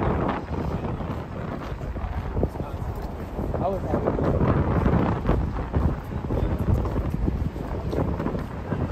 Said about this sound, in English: It's very windy tonight as well.